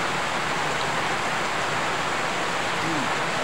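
Steady hiss of heavy rain pouring down, broadband and continuous, with a faint voice murmuring briefly underneath.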